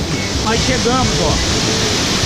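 Cachoeira de Santa Isabel roars as a dense, constant wash of falling water, loud and near throughout, with a voice speaking briefly over it.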